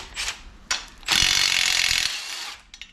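A Milwaukee impact gun rattles on a car subframe bolt, with a short burst, a brief pause, then a sustained loud ratcheting hammer of about a second and a half that trails off.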